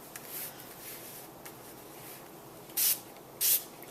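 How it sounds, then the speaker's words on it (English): Two short, sharp bursts of a spray bottle misting pink Glimmer Mist ink onto paper, close and distinct, following softer faint rustling and lighter hissy puffs. "I'm going to go ahead and spray this with some bubblegum pink."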